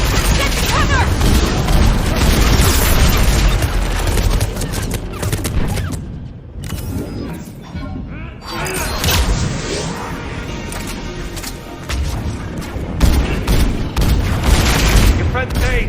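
Sustained heavy gunfire and booming blasts fill a sci-fi battle in the video game Mass Effect 3, loud and dense throughout with a brief lull midway, while voices shout over the combat.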